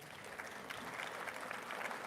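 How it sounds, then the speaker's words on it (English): Steady clapping from a crowd at a Pride Month lunch celebration fills the space, dense and continuous throughout, with no voices standing out. "Let's give him a round of applause."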